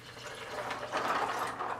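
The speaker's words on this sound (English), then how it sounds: "Pour the water right in." Water poured from a vessel into a container holding a few acorns, a soft steady splashing and trickling, fairly quiet and close, with no voices.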